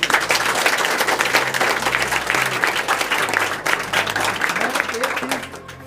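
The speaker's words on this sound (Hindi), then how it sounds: "एक बार जोरदार तालियां बजाइए।" Loud, dense applause and cheering from a large crowd at a JEE Main result celebration, steady clapping filling the room with a few voices rising within it throughout.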